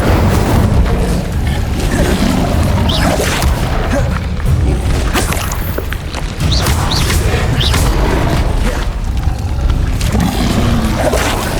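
Incendio fire spells are cast again and again in a Hogwarts Legacy battle, producing loud whooshing booms, thuds and crashes that pile into a dense, sustained barrage of spell effects.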